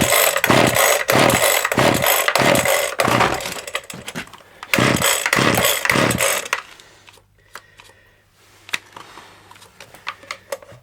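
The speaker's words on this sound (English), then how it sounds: "It's always been a bit stiff, this edge trimmer, because it ain't really running properly." A stiff, poorly running petrol edge trimmer engine is started, giving loud rhythmic pulling bursts, a rough sputtering run, then dying down to intermittent clicks and knocks close by.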